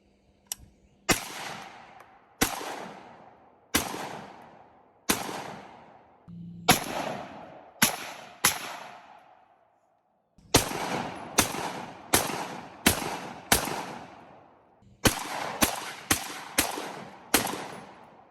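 Colt law enforcement carbine rifle fired in controlled single shots, about twenty sharp cracks spaced in quick groups with short pauses, each with a brief echoing tail.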